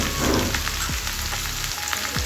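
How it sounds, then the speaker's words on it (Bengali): Sliced ridge gourd added to potatoes already frying in oil in a pan, a dense, even sizzle like rain on a surface with a few brief stirring scrapes, close and alone. "আমার আলুটা ভাজা কমপ্লিট হয়ে গেছে এবার আমি এটার মধ্যে ঝিঙেটা অ্যাড করে দিলাম"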